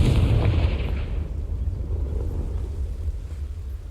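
Confringo fire spell in Hogwarts Legacy, setting dry vines alight: a loud, dense burst at the start that settles into a sustained low roaring crackle of flames.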